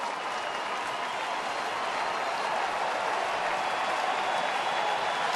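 A baseball stadium crowd at a Tigers game applauds and cheers continuously, a dense, loud roar of clapping that holds steady throughout.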